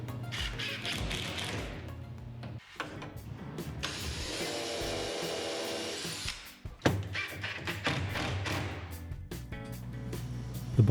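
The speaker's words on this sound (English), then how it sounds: "I drilled pocket holes in the bottom shelf" Power drill boring pocket holes into the bottom shelf of a wooden piece in a woodshop, heard as bursts of whirring motor with a steady high-pitched drilling stretch in the middle, loud and close, no talking.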